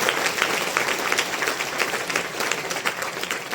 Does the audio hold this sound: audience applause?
yes